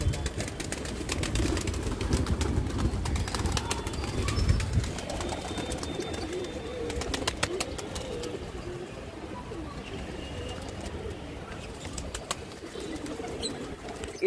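A flock of pet pigeons coos softly and repeatedly nearby while wings flap and clatter in bursts as birds take off, with faint background chatter.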